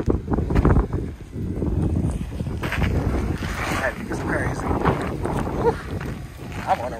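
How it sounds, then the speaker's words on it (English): Gusty wind buffets the microphone in low, rumbling bursts, with faint indistinct voices underneath. "it's kind of windy up here."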